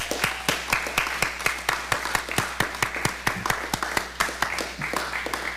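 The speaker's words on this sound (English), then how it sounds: "let's give our graduates a round of applause" Applause for graduates at a spring commencement-style celebration: a modest group clapping in a steady, fairly even rhythm of distinct claps, moderately distant and without talk.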